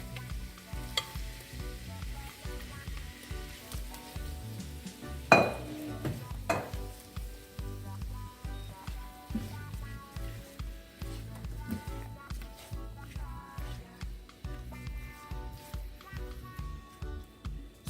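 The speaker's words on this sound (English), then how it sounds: "Next, we're gonna add our shrimp to this butter and garlic." Shrimp cook in butter and garlic in a pan for a stir fry, with a soft steady sizzle under rhythmic stirring scrapes and a couple of louder clatters.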